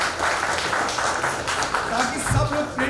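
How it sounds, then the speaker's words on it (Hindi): Audience clapping at a retirement ceremony at a Central Bank of India branch, a steady mid-level patter of many hands under a speaking voice. "उपस्थित सभी लोग तालियां बजाकर उनके इस कृत्य का अनुमोदन करें"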